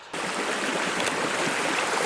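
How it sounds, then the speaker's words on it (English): Broadband rushing water from a beautiful river along a trail, a steady close wash that starts abruptly and holds at an even level without pause. "This nice beautiful river."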